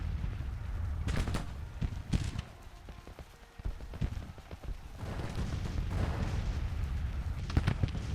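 Musket volleys and scattered rifle fire from infantry troops in the Grand Tactician Civil War strategy game, a series of sharp cracks and rolling bursts against a steady low battlefield rumble.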